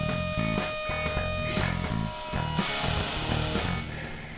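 Music processed through the Airwindows Luxor plugin, modeled on impulse responses of a Manley Massive Passive equalizer, playing as a steady, full mix with a repeating rhythmic beat and dense tones, no talking.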